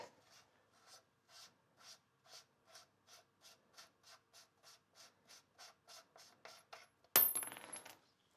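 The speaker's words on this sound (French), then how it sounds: "on enlève notre écrou" Ratcheting a tight nut off a suspension axle produces a fast run of about twenty crisp, evenly spaced metallic clicks. A louder, rougher burst of metal noise follows near the end.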